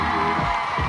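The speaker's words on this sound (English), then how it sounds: "Give him a round of applause, you guys." Studio audience on a 1992 children's game show cheering and whooping in a short burst of crowd noise, fairly loud and steady.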